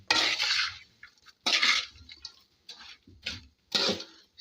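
Cake crumbs stirred into ghee in a pan for cake halwa, giving repeated scraping, rustling strokes in an uneven rhythm, close and fairly quiet.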